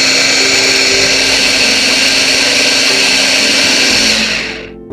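An electric beater whipping cake batter in a home kitchen, a loud, steady high-pitched motor whine running continuously before winding down and cutting off at the end.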